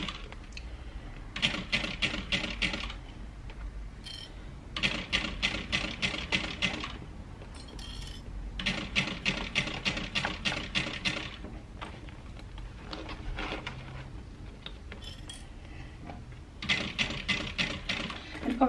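A walking foot sewing machine stitches a handbag seam in rapid mechanical bursts of needle clatter lasting a few seconds each, with short pauses between runs, close and moderately loud.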